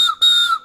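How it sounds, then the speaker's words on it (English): Two loud, clear blasts of a train whistle used as a training signal, a short blast followed after a brief gap by a longer sustained one, steady and close with no talking. "I'm going to blow this whistle twice."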